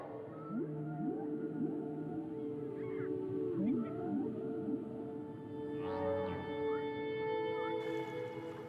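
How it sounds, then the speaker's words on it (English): Whale mating songs: several long, sliding moans and higher whistling calls overlapping against a steady underwater hum, far off but clear and continuous. "With humans gone, whales' mating songs are being heard from Canada to the Caribbean."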